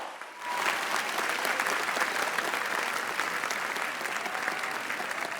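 An audience at a climate-focused opening plenary in Indonesia breaks into loud, sustained applause, a steady wash of many hands clapping that begins sharply and carries on evenly.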